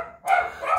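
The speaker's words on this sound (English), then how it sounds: "Bailey's going to bark for a minute because she heard the class" Bailey, a pet dog, barks at a class walking past, giving one sharp, loud, close bark that rings out briefly after a moment of quiet.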